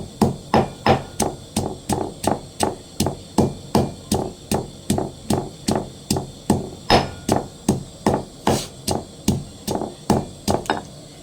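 Rhythmic pounding of lemongrass in a mortar for an Isan-style fish-belly soup, roughly two dull thuds per second, close and steady for the whole stretch with no talk.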